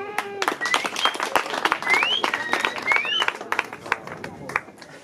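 An audience breaks into scattered, uneven applause, with sharp individual claps mixed with overlapping voices and excited calls.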